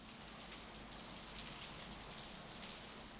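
Steady rain from the video game Steins;Gate 0 pours down in a dense, even hiss with no breaks, fairly faint and without voices.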